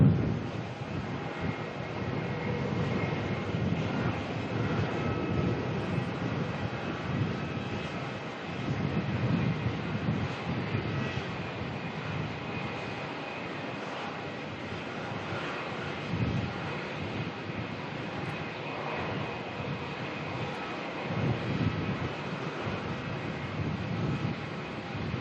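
A Qantas airliner, flight QF919 from the Sunshine Coast, arrives at Melbourne with a steady, broad roar of jet engines that holds at a fairly even level throughout, with no talk.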